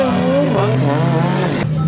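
Drift car tires squeal at a drifting event, a loud sustained wail of rubber mixed with engine roar, continuous and close throughout.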